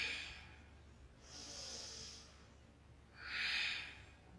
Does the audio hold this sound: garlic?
no